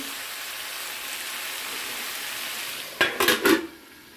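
Cauliflower and keema fry in a pan with a steady soft sizzle, then a few quick scraping stirs near the end clatter briefly against the pan.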